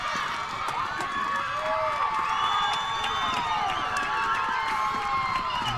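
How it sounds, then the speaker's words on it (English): A softball crowd at Greenbrier cheers and roars continuously, with shouts and whoops rising over a dense wall of voices. "to hear that Greenbrier crowd roar"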